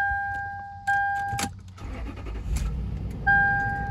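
A Lexus GX 470 4WD engine starts, marked by a dashboard chime, a brief cranking burst and a low idle rumble settling in, with another chime returning at the end.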